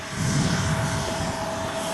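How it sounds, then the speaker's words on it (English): A steady drone from an aircraft's auxiliary engines at an international airport runs unbroken, broad and rumbling with a faint high whine, moderately loud and fairly distant, with no voices. "But it sounds like it's only the auxiliary engines."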